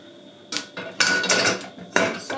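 Cookware and a sauté pan clatter against the racks while a Midea MID45S900 dishwasher is being loaded, three or four sharp metallic bursts with short pauses between them, close and fairly loud, with no talking.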